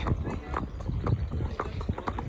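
Horse hooves clip-clopping in a steady walking rhythm while the horse is ridden out on a hack, close and moderately loud, with people talking over the footfalls.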